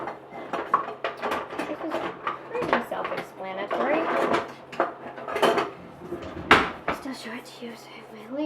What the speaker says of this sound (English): now I'm gonna ladle some soup into my bowl